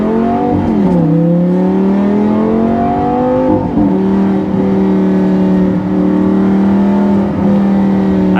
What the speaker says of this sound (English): the instant throttle response from the big naturally aspirated engine